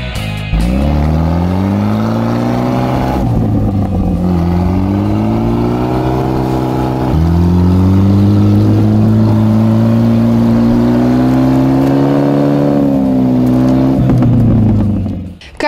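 An off-road car at a winter trophy competition revs hard to climb out of a snowdrift, its engine droning loud and close in long rising and falling pulls, steadily building pitch over about fifteen seconds.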